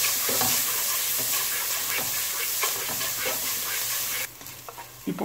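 Bitter gourd shallow-fries in oil in a pan with a loud, dense sizzle and occasional stirring scrapes, and the sizzle drops off abruptly near the end.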